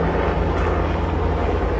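An airplane passes overhead with a loud, steady broadband engine roar that fills the whole moment, with no talking.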